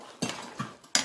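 Walnuts stirred into a sweet potato pie topping in a pan, three sharp utensil clacks against the pan at uneven intervals, close and fairly quiet.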